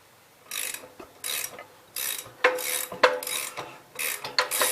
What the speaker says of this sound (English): it is starting to build a little bit of compression with me just turning it over by hand